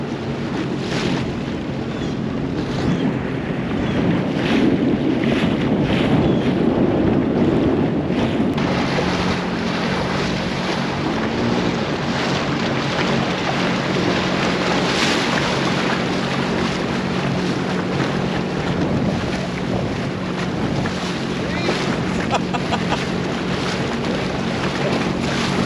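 A boat idles slowly down a river while wind rushes steadily over the water, making a loud, continuous broadband roar with buffeting against the microphone and a faint low engine hum beneath, and no voices.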